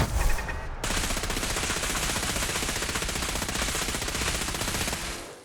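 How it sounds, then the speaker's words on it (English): Rapid, continuous bursts of laser turret fire in Fallout 4, a dense loud rattle sustained for several seconds after a brief opening shot, with no talking. "That's definitely a turret. Right? Yes, it's a laser turret."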